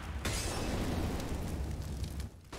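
A single grenade explodes on the Inferno map in Counter-Strike, giving a sustained loud rumbling blast that fades after a couple of seconds.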